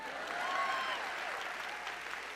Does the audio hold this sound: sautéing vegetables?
no